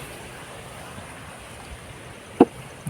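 Steady rain falls over a vegetable garden where okra grows, a soft even hiss throughout, with one brief sharp knock near the end.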